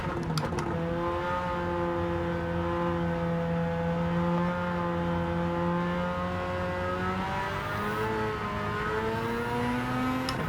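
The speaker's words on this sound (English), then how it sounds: "This engine, I would assume, is probably from newer RX-7." A Mazda RX-7 engine in Gran Turismo 7 holds a steady, loud, harmonic drone that slowly dips and climbs in pitch as revs shift, running continuously with no talk over it.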